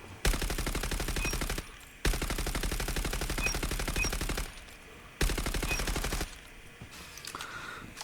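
Dingo light machine gun firing in the game Peacekeeper: three long, rapid automatic bursts with short gaps between, loud and close, the last trailing into a faint mechanical sound.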